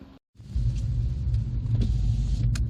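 A 2001 BMW 330i SE Touring E46 automatic drives along, a low steady engine and road rumble heard from inside the cabin after a brief silence, no talk.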